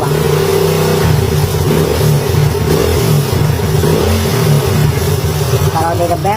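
A Honda Astrea Grand motorcycle engine runs loud and close, its revs rising and holding in a steady rough drone, with someone speaking over the noise.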